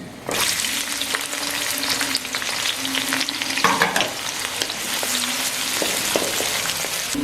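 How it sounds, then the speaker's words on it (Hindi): Onions go into hot oil already holding cinnamon pieces for chana dal and fry with a loud, close, continuous crackling sizzle. Occasional stirring strokes cut through, and no one talks. "अब इसमें हम ये प्याज शामिल कर लेते हैं।"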